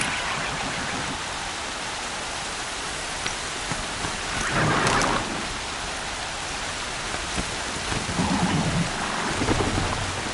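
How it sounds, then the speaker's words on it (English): Heavy rain pours steadily in the video game Horizon Zero Dawn, a dense hiss that fills the whole clip, while low thunder rumbles swell around the middle and again near the end. "Raining like it's trying to wash everything away."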